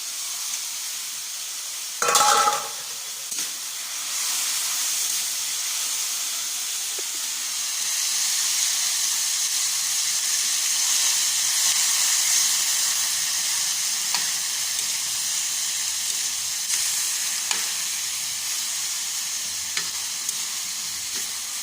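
Chicken pieces fry in a hot pan for an upo and chicken dish, a steady close sizzle with a louder burst early on and occasional stirring scrapes.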